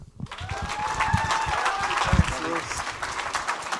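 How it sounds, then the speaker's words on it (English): Comedy club audience gives a big round of applause for a comedian's guest set, a dense burst of clapping with some cheers that holds strong for several seconds, close and loud, with a host's voice over the start. "Big round of applause for Allan Goodwin."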